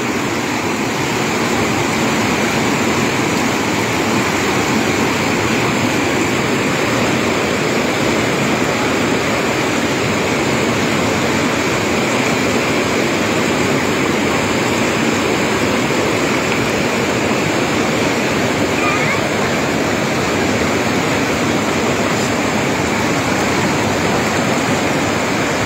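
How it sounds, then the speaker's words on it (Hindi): A flooded river rushes loud and close in a swollen hillside stream that has swept away parked cars, producing a dense, unbroken roar of churning water that holds steady throughout, with no voices over it. "अभी भी नदी का आप देख सकते हैं रौद्र रूप कितनी ज़्यादा नदी है"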